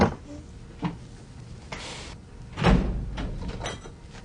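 A door opens and closes in an indoor scene, a few soft knocks and clunks followed by a louder shut near the end, with faint room noise and no voices.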